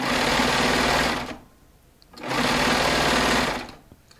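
A Baby Lock Triumph four-thread serger stitching Shannon Cuddle plush fabric whirs steadily in two long runs of about a second each, close and loud, with a short quiet pause between them.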